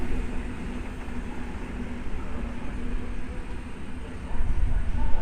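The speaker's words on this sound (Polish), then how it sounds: "jednostka z numerem 104 pociąg się podstawia" An EN71 electric multiple unit, unit number 104, pulls into Warszawa Wschodnia station with a low, steady rumble that swells louder near the end.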